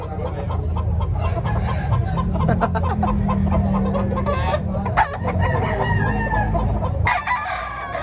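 Several roosters crow loudly and close by at a chicken expo in Tabunok, Talisay, Cebu, overlapping with steady clucking from a crowd of chickens.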